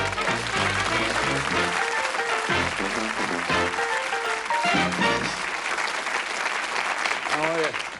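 A studio audience on the Bullseye game show claps and cheers loudly and continuously, the applause blended with a musical sting playing over it.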